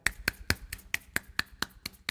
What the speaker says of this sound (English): Down to one hand clapping.